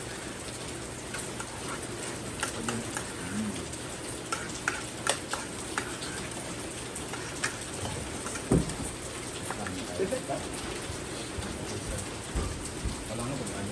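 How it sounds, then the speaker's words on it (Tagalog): Heavy rain pours steadily without a break, a dense hiss of drops pattering on surfaces with scattered ticks and taps throughout. "Grabe ang lakas ng ulan."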